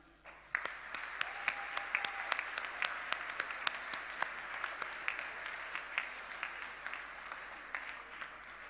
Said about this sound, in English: a warm applause for the logistics teams from both Collage and the Kempinski Hotel